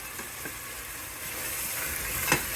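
Thick coconut curry bean sauce with cooked tomatoes bubbles and sizzles in a pan in a steady hiss, with a spoon scraping as it is stirred and one sharper scrape near the end.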